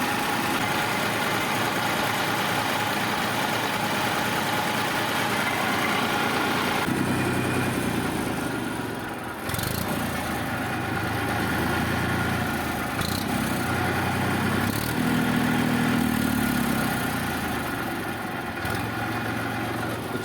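A used Mahindra 45 HP tractor with fresh engine oil idles nearby in Amreli, Gujarat, a steady low diesel rumble that shifts tone partway through and keeps running throughout.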